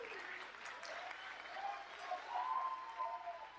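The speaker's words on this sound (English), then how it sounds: "As the crowd shows their appreciation for the fire of Jordynne Grace" A wrestling crowd at a 2017 women's match between Jordynne Grace and Holidead applauds in a steady wash of clapping, with a commentator's voice heard over it and a few whistles and cheers rising toward the end.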